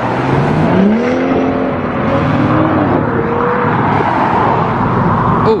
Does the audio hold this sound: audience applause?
no